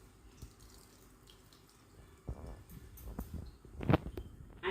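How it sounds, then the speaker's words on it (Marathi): Water being drained off boiled grated potatoes: quiet trickling and a couple of brief splashes that grow louder toward the end. "याच्यातलं पाणी सगळं काढून घेऊ"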